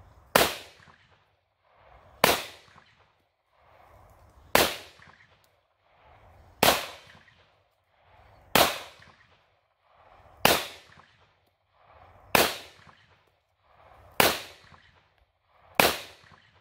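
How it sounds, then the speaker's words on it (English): Taurus GX4 9mm pistol fired at a range: nine sharp, loud shots evenly spaced about two seconds apart, each cracking and then ringing out briefly. "I have a little more bonus shooting footage of this pistol"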